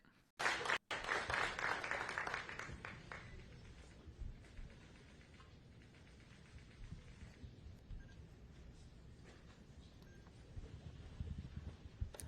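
Sparse, scattered applause from an unimpressed audience at a press event, a brief burst of clapping near the start that thins into faint, hesitant claps over low room murmur.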